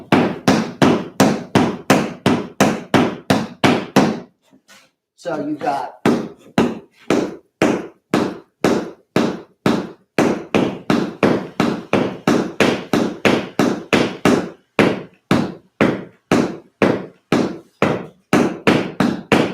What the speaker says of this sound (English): just heels and away we go. Here's the quarter note triplet.